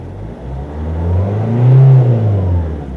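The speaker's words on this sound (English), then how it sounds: "sure you can hear the car revving" A car engine revs up, the drone climbing in pitch and loudness to a peak midway before easing back down, heard close and clear with no talking.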